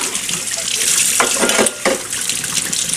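Running tap water pours steadily over a metal piece being washed like a dish, a loud close gush that briefly cuts out and resumes, with no talking.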